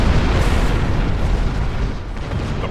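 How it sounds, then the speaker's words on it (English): Heavy, continuous explosions pound as the Heralds fire on the time portal in the Star Trek Online game, a loud rumbling barrage with dense booms throughout and no talking. "The Heralds are firing on the portal!"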